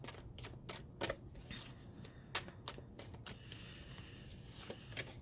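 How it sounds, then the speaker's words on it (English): Tarot cards being shuffled by hand give quick bursts of crisp, papery clicks and riffles in an uneven rhythm, close but quiet, with no talk. "We're going to pull a couple quantum leap cards."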